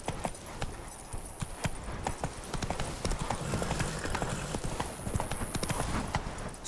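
Geralt's horse Roach trotting in The Witcher 3, with a dense, quick run of hoofbeats close by that continues steadily over a soft wind-like ambient bed.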